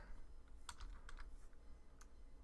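A computer keyboard clicks with a few quick, faint keystrokes in short bursts over a quiet background hum.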